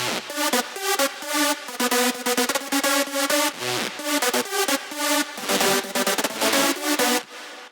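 A soloed big room drop lead from the Spire synth's Lead Anthem preset pumps out bright, buzzy, stabbing chords in a choppy, bouncing rhythm, loud and upfront with no drums.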